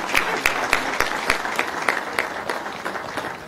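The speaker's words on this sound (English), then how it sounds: "join me in a wild round of applause for Brian Kagoro as he comes up" Clapping from the crowd at a political party launch event, dense and sustained with distinct louder individual claps in a loose rhythm, near and steady for the whole stretch.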